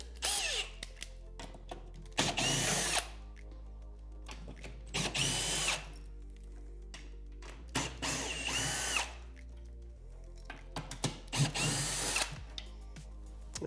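Power drill fitted with a half-inch socket whirs in several loud bursts of about two seconds each, removing TV mount bolts, with quiet pauses between runs.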